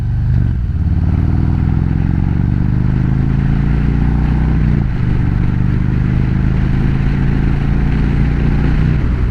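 A motorcycle engine hums steadily at close range, its pitch shifting slightly as the bike rides into Okarche, Oklahoma, with continuous wind and road noise.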